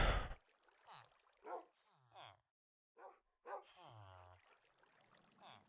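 A puppy in the Minecraft video game gives short, scattered yips and whimpering barks between quiet gaps, close and clear, with a brief burst of other game noise at the start.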